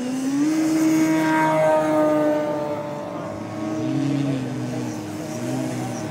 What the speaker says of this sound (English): But nice flying airplane.